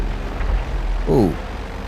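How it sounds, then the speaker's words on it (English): A plane blowing up in midair in GTA Online: a brief muffled boom under steady game rumble and background noise, no talk during the burst. "what just happened to that plane? Just blew up in midair."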